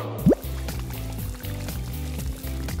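Fresh water splashes briefly into a cat's drinking fountain, a short pouring burst followed by a steady low trickling hum from the fountain.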